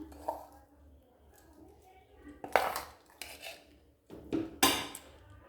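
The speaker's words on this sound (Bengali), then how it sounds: "একটা বাটি নিয়েছি, বাটির মধ্যে ঢেলে দেব" A ground mixture from a mixer jar is tipped into a bowl in a home kitchen, giving a few scraping clatters and clinks of utensils against dishes, close and fairly quiet, with short gaps between them.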